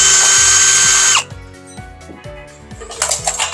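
Power screwdriver whirs as screws are removed from an electric mosquito killer, then stops and gives way to short ratcheting clicks and handling noise, close and loud.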